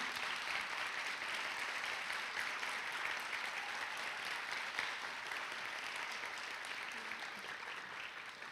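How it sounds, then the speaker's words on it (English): A crowd at a school district employee recognition night applauds a support employee: a quiet, distant wash of many hands clapping steadily for several seconds, tapering slightly toward the end. "Let's give Ms. Huey another big round of applause for her service to School District 5"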